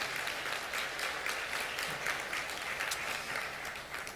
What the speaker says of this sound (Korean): 우리 한번 힘내시라고 한번 격려의 박수 한번 드리시죠